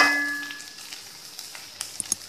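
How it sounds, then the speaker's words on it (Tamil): Onions sauté in a pan for an onion and carrot uttapam, making a soft, fading sizzle with a few faint crackles and pops near the end. No voices are heard. "பாருங்கள் வெங்காயம் நல்லா வதங்குது"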